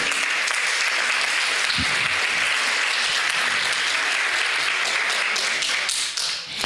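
A church congregation applauds during a sermon, sustained dense clapping that fills the whole stretch at a steady level and thins slightly near the end.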